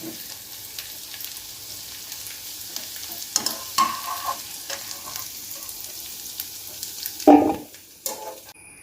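Cauliflower sautéing in a pan over a medium flame, a continuous close sizzle broken by scraping stirs and clattering strokes of a spoon against the pan, with a sharp clank near the end.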